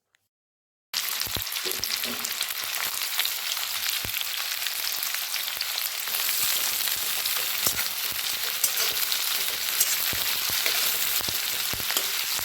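Half-ring sliced onions fry in hot oil over high gas heat for prawn pulao, a steady, dense sizzle with scattered crackles that starts abruptly after a brief silence and holds evenly throughout.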